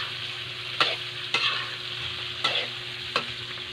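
Bangus fish frying in a pan, a steady hiss of hot oil broken by four sharp scraping stirs of a utensil, with no talking.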